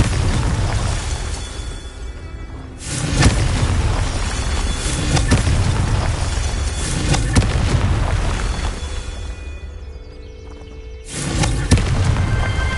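A Confringo explosion spell going off in Hogwarts Legacy on PS5: loud booming blasts with broadband rumble, a burst near the start, another around three seconds and a third near eleven seconds, over continuous game ambience.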